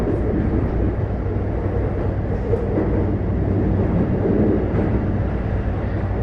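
Toei Subway 5500 series train, unit 5512, with Mitsubishi full-SiC VVVF traction, running on the Keikyu Main Line between Kanazawa-hakkei and Kanazawa-bunko, heard from inside the car as a steady loud rumble of wheels and motor without talk.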